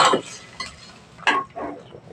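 Food is mixed in a pan while cooking a Filipino dish, giving a few short scraping and clinking strokes of a utensil against the pan, separated by quiet gaps.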